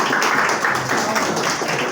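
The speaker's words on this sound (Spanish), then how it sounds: "Fuerte aplauso, por favor." Audience applause fills a talk or lecture hall: dense, steady clapping from many hands, loud and continuous throughout with no voices over it.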